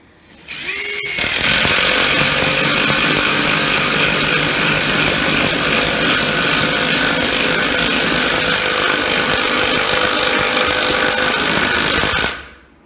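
A power drill runs continuously and loudly for about eleven seconds, a steady grinding whine boring into dense laminated veneer lumber, starting and stopping abruptly.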